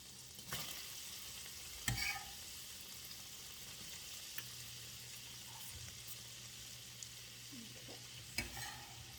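Sliced onions fry and get stirred in a pan, a faint soft sizzle broken by a few sharp clinks and scrapes of a utensil, with no voices.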